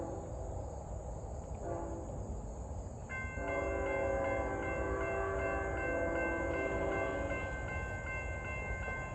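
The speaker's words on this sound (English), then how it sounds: "I can hear a familiar sounding GEVO horn of a later GEVO model" A distant GE Evolution Series locomotive horn sounds a long, sustained multi-tone chord at a rural crossing, with a brief earlier blast and a steady hum of crickets underneath.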